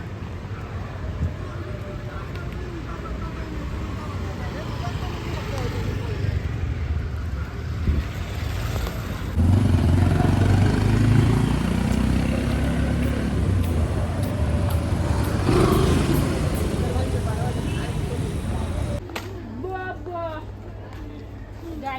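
Road traffic rumbles continuously around a vehicle driving to a DMart store in Panvel, a steady low engine and road drone with passing swells, while people talk over it throughout.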